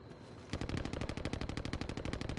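Rapid automatic gunfire in a shooter video game, a fast, loud, evenly spaced burst of shots that starts abruptly after a short quiet moment and keeps going.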